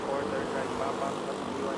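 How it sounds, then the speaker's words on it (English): A Cebu Pacific airliner takes off at Manila's NAIA airport, giving a steady, loud engine roar that fills the whole short stretch with little change in level. "Nice takeoff there. Cebu Pacific."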